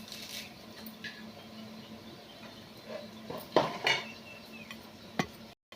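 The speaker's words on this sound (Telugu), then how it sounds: "అలాగే ఎల్లిగడ్డ, అల్లం పేస్ట్ వేసుకొని అయితే ఇలా కలుపుకోవాలి" A utensil stirs garlic-ginger paste into curry in a metal pan, giving scattered scraping and clinking taps, a few louder knocks near the end, with no talking.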